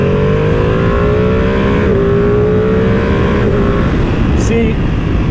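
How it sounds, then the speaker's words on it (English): A 2023 Ducati Panigale V2 Bayliss twin-cylinder sportbike engine drones loud and steady, its pitch rising gradually as the revs climb, with heavy wind rush throughout. "But the twin engine still like to be like revved out."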